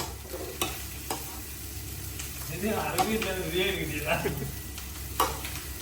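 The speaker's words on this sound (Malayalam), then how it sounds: "നമ്മൾ ചിക്കൻ പൊരിക്കുകയാണ്." Chicken fries with a steady sizzle in the background, with occasional utensil scrapes and knocks against the pan as it is stirred.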